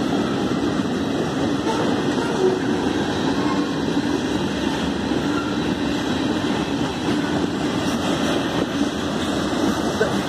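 Union Pacific 8516 freight train rolling through Altamont, Illinois, a steady loud rumble of wagons and wheels lasting throughout, close by with no pauses.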